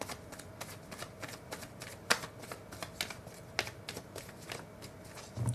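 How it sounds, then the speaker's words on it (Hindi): Tarot cards being shuffled by hand nearby, a steady run of soft riffling and flicking with sharper card snaps at intervals, fairly quiet and without talk. "लास्ट फ्यू कार्ड्स एक बार और शफल करते हैं"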